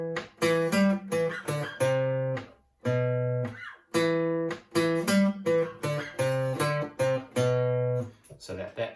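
An electric guitar plays the chorus riff of a song as a loud, close, rhythmic run of punchy, distorted notes with short pauses between phrases.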